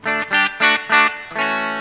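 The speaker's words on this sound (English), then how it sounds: "here is our Epiphone Les Paul Special" An Epiphone Les Paul Special electric guitar played clean through an Orange Crush 35RT amp sounds four short, loud chord stabs followed by one sustained, ringing chord.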